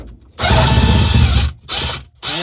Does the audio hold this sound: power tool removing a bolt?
yes